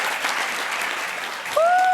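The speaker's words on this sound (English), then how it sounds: "One more round of applause to Mediated Ear." A crowd at a world championship tech competition finals claps steadily for a team, with a sharp whoop or whistle cutting in near the end.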